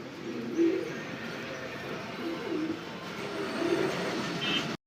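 Madrasi Gola and Rajgola pigeons give several soft, low, rolling coos close by, spread across a few seconds over a steady background hum.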